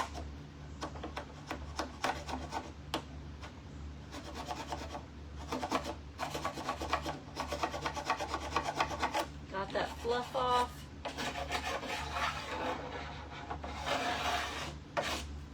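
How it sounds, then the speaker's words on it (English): A hand scraper is drawn again and again along the edge of a wooden workpiece for a sewing table, making quiet rasping strokes in a steady, uneven rhythm over a low background hum, with no one talking. "I'm going to end up scraping the whole piece just because I love the way that moves"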